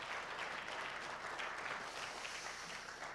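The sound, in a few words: audience applause welcoming children's choir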